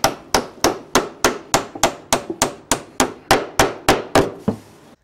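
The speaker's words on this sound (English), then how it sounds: "fasten them off with screws into the transoms at each end and nails through every rib head" Nails are hammered through the rib heads of a traditional clinker dinghy, about fifteen sharp, ringing wooden strikes in a fast, even rhythm, close and loud, ending with a brief faint rustle.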